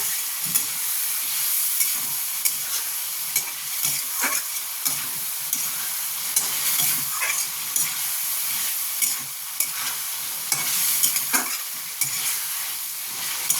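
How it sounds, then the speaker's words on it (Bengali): Tomatoes sautéing in a pan for a fish curry with drumstick, a soft continuous sizzle and crackle broken by repeated scrapes and clinks of stirring, fairly quiet and with no voices. "টমেটো দিয়ে এটাকে একটু ভালো করে কষবো।"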